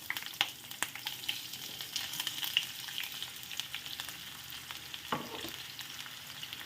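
Sliced onion and chopped green chillies sizzle steadily in a hot pan, a continuous bright crackle with a few sharp pops and one soft clatter near the end; no one speaks.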